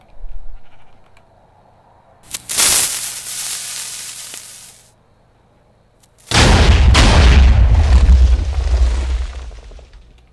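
A long-range Minecraft TNT cannon powered by 502 blocks of TNT fires in two heavy blasts a few seconds apart. The second is a longer, rumbling roar, with a brief bleating animal call amid the noise.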